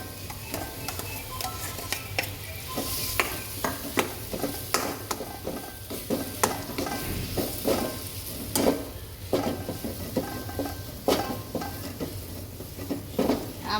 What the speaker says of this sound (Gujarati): આવી રીતે મસાલો શેકીને બટેકા નાખી દેવાના.